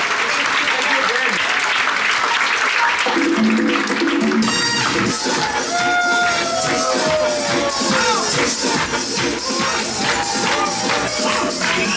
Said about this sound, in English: Let's put our hands together and give our culinary team a big round of applause